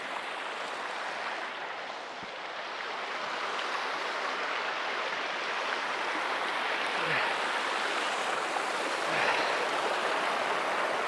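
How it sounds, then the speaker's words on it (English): Cold mountain stream running near a high desert camp, a steady broadband rush of water close by, continuous and fairly loud with no talk. "There's a decent amount of water running here."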